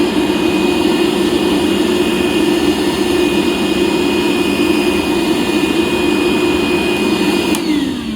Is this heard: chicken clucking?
no